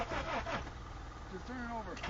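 A flooded Honda VTEC engine cranks over without catching, a faint rhythmic churning under people talking nearby.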